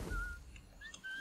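A character whistles in Assassin's Creed IV: Black Flag, a faint thin tune of a few short notes over a low ambient game backdrop.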